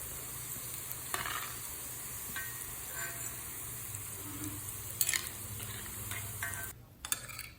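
Thiou boulette fish balls fry in hot oil with a constant soft sizzle, broken by occasional clinks and scrapes of a utensil stirring in the pan; no one speaks.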